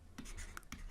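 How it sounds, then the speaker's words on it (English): A pen scratches a few quick strokes on paper as a value is written down by hand, brief close scritching bursts with short gaps. "So I'm going to write that down."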